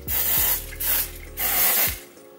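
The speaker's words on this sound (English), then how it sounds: "Going with some thickening spray." Three quick hissing bursts from a spray bottle of thickening hair spray, close and crisp, separated by short pauses with faint background music beneath.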